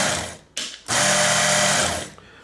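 A Work Sharp MK.2 powered knife sharpener whirs at its higher speed setting, running briefly, cutting out, then spinning up again into a loud, steady motorized whine that tapers off at the end.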